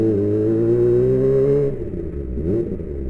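Kawasaki ZX-25R fitted with an Austin Racing aftermarket exhaust, revving at low RPM around 2000-4000 in a residential housing area; a steady, fairly loud buzzing engine note dips partway through, then swells in a short blip before settling again.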